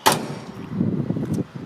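A single sharp door thump on a 1965 Ford Mustang coupe with a rebuilt engine, heard close as someone climbs in, followed by low rustling and shuffling inside the car.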